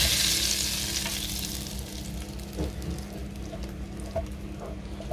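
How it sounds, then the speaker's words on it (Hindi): Hot oil tempering hisses and sizzles loudly as it is poured onto cooked masoor lentils, then settles into a steady crackling fry with faint stirring clicks. "ये जो तड़का रेडी है इसको ऐसे ही उठा के बिस्मिल्लाह दाल के ऊपर डालने का"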